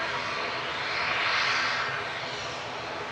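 An Aer Lingus UK ATR 72-600 turboprop at Manchester Airport gives a steady engine roar that swells to a peak midway as it passes, then eases slightly, moderately distant with no talk.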